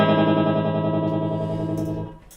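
Guitar through a Marshall Vibratrem tremolo pedal with depth set mid-range, a sustained chord pulsing in rapid even volume throbs, loud and close, then fading out at the end.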